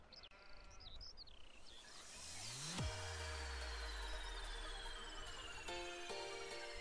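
Sheep bleat in Landwirtschafts-Simulator 17 (LS17) on a large farm in Southern Thuringia, several calls in the background over a steady engine drone and machinery whine.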